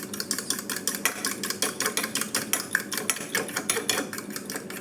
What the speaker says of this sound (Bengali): ফেটিয়ে নিচ্ছি ভালো করে।